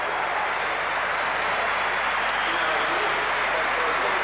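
PAOK fans in a stadium clap for a substituted player during a match against Beitar Jerusalem, a sustained dense roar of applause and crowd noise lasting several seconds, loud and even, with commentary speech faintly mixed in.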